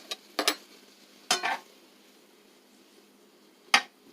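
Chanterelle mushrooms being stirred in a pan as they cook down, giving a few short, sharp scraping clinks in quick clusters, then a pause and one more, against a quiet background.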